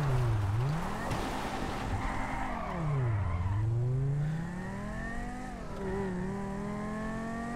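A car driven in GTA, its engine tone sweeping up and down with throttle and gear changes, fairly loud and steady throughout with some tire noise, no talking.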